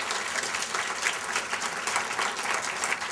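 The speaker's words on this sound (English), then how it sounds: "Let's give Ann another round of applause." Steady, loud applause from an audience at an orientation event, continuous dense clapping throughout with no voices over it.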